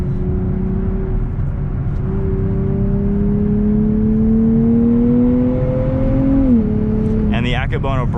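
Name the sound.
2023 Nissan Z Performance accelerating, engine revving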